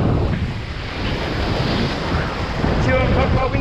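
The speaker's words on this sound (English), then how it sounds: "I'm trying to get out where the waves are better." Ocean surf rolling onto a beach in Mexico, a steady broadband wash with heavy wind buffeting the microphone throughout, loud and continuous, with a faint voice briefly audible near the end.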